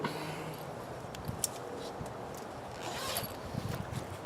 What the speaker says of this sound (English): Let me zip this one up.